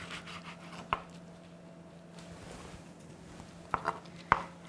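A knife chops kimchi on a cutting board for dumpling filling: a single sharp knock, a quiet stretch, then a quick cluster of three crisp chops near the end, close and distinct over a low steady hum.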